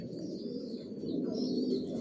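Racer pigeon chicks of the Johnson line coo softly in a loft, a low, continuous murmur of overlapping calls at close range.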